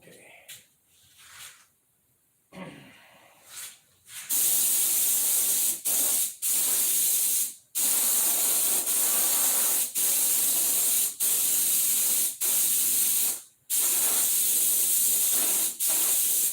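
A spray gun lays down a heavier coat of paint, giving long bursts of loud, steady hiss separated by short pauses, with quieter handling noise and faint low activity at the start.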